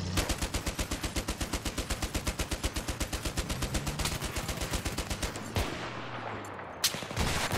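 A machine gun fires in a video game, close and loud: a long, steady stream of rapid, evenly spaced shots for about five seconds. It then breaks off, leaving a gap with a few scattered shots and no voices.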